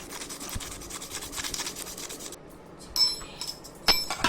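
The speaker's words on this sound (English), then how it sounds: "So I am removing all the rust. Here also lot of rust is there." Rusty metal plates being scrubbed clean by hand: close, faint repeated rubbing and rasping strokes, then a pause and a couple of brief scraping clinks.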